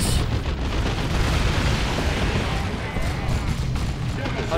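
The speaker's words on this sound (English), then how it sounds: "Plasma cannon fires up close." A plasma cannon in the Dawn of War 2 video game fires at close range, a dense heavy boom and rumble that fills the whole stretch, with battle noise layered underneath.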